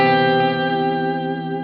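One sustained four-note chord on an electric guitar run through chorus, reverb and slight distortion rings out alone and slowly decays.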